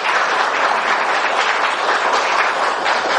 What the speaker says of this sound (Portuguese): uma salva de palmas para o nosso irmão